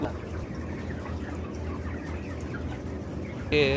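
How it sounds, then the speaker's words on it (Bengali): Broiler chickens about twenty-five days old clucking inside a poultry farm shed, a dense continuous chorus of many birds close by, with a brief louder burst at the end. "আপনাদেরকে মুরগিগুলো দেখাই তো আমাদের মুরগির বয়স আজকে পঁচিশ দিন শেষ"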